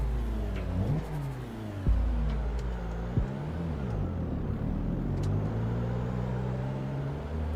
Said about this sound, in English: Alright, we got car sounds.